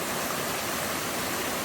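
Minor waterfall beside a wet, slippery hiking track in a forest, giving a steady, full-bodied rush of falling water that holds constant throughout with no voices.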